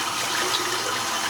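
Water runs steadily from a tap as a shaving brush is rinsed, a continuous close hiss with no pauses over its short length.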